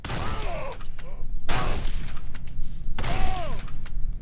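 Shotgun blasts ring out in the horror video game Condemned, three loud booming shots spaced about a second and a half apart, each followed by mechanical clatter, over a low rumbling background.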